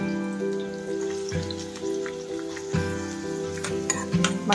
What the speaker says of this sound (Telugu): ఇప్పుడు మనం సన్నగా కట్ చేసి పెట్టుకున్న ఆనియన్స్ వేసేయాలన్నమాట.